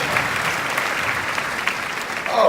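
A large audience at a corporate reunion event claps continuously, a dense, even roar of hands that swells a little at the end as a voice begins to come through.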